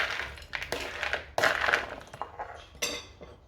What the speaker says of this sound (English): So I'll just toss those potatoes through there.